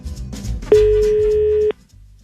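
A telephone tone sounds on an outgoing call as a radio host phones a manager, a single steady tone lasting about a second, loud and clean, with faint background chatter before and after.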